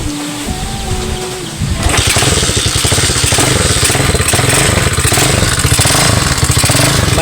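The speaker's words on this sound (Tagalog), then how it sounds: "Maingay lang timing chain." A motorcycle engine with a noisy timing chain runs loud and close after a wiring repair, giving a fast, steady mechanical rattle and ticking. A quieter hum is heard at first before the louder engine sound takes over.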